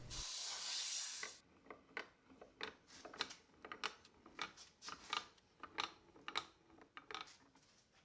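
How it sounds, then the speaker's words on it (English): Air compressor blowing air through aluminum plates to cool a forged Damascus chef knife blade: a loud initial hiss followed by a series of short, sharp bursts of air at irregular intervals. "blow some air through the plates with an air compressor"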